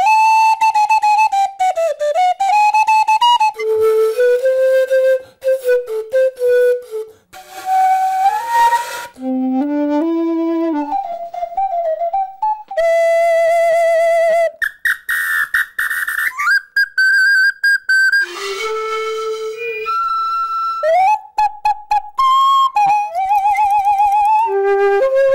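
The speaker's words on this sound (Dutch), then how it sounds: "En toen ik 6 was, kreeg ik een fluit. En dat was deze, de Piccolina." A Piccolina flute plays a lively, shifting tune of bright sustained and trilled high notes, close and loud, with short pauses between phrases and no voices.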